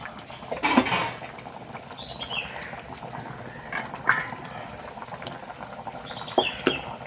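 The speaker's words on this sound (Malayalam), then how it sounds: "നന്നായി തിളക്കട്ടെ" Curry bubbling on a stove, a low, steady simmer with scattered pops and a few clattery knocks of utensils nearby, no voices.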